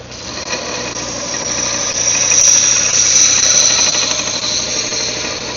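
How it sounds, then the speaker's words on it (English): A homemade belt sander built from garage-sale parts and scrap runs steadily up close, a continuous loud motor whir with a high squealing whine from the belt that swells slightly midway. "for a homemade little sander that was just made out of some stuff that I got at a garage sale"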